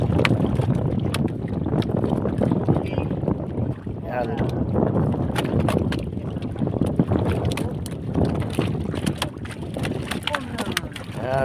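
Strong northeast monsoon wind buffets a small fishing boat at sea, a continuous loud roar and rumble with water noise under it, while someone speaks briefly over it.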